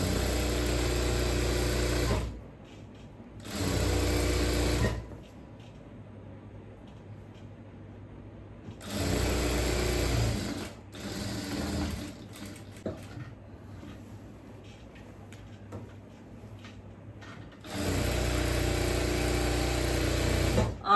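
Sewing machine stitching a churidhar yoke neck, running in several sustained bursts of steady mechanical whirring separated by short pauses, loud and close, with no talking.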